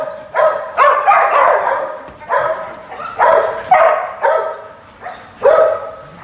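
Several dogs on a farm bark and yip in short repeated bursts, with a whimper between, eager over a lure toy; close and fairly loud with no talk.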